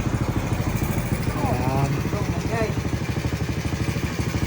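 A Rusi Kraken 110 motorcycle engine with a misfire and clattering idles steadily with a fast, even putter close by, while someone talks over it.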